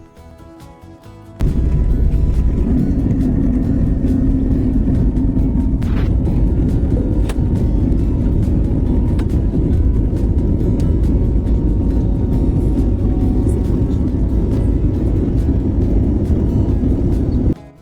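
Airliner climbing away from Muscat airport, heard from inside the cabin as a sudden, loud, steady roar of engines and rushing air that kicks in after a quiet start and carries on unbroken, with a few faint clicks and knocks over it.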